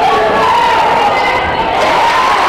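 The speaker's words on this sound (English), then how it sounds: "much to the delight of her large cheering squad" Large crowd cheering at a girls' high school basketball game, a loud, sustained roar of shouting and whooping voices that fills the whole moment without a break.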